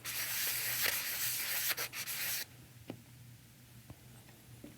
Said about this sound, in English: I'm going to use the same sanding block I used previously and just rough up that surface